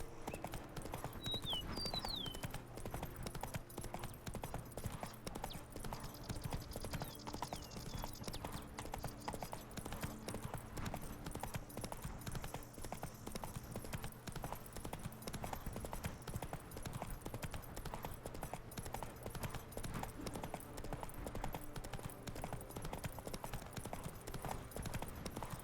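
A horse's hooves clip-clop in a steady rhythm through a ride in The Witcher 3, a faint continuous patter over a constant ambient hum that runs throughout.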